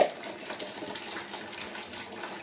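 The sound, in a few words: washing small kachki fish in a basket with water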